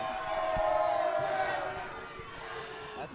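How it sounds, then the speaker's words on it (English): An outdoor crowd at an ultimate frisbee all-star game cheers and shouts in a sustained, fairly loud roar that eases off slightly toward the end, with voices mixed in. "The crowd is really excited."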